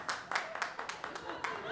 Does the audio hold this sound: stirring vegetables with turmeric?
no